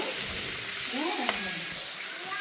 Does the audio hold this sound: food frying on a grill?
yes